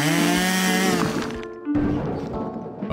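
A drill in the video game Henry Stickmin Collection makes a loud buzzing, revving whir that drops off abruptly and then chatters on at a lower, rougher level, close and without talk.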